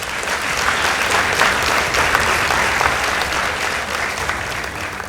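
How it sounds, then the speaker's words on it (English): A round of applause for a school debate team after results are announced, a full steady crowd of clapping hands that holds evenly for several seconds with no talk over it. "Let's give them a round of applause."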